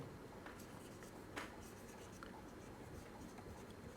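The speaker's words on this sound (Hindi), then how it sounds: "चलिए मैं लिम्फोसाइट लिख देता हूं" Pen scratching out the word lymphocyte, soft faint strokes in quick short bursts against a quiet hissy background, no talking.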